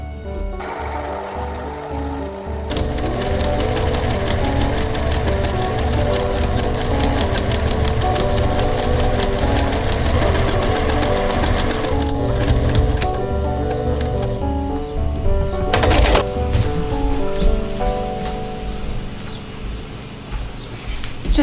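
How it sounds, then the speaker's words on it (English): An overlock machine stitches the inside waistband of a handmade mini skirt, a steady mechanical whir running close and continuous for about twenty seconds, with a brief louder burst near the end. "I'm just gonna go ahead and overlock it"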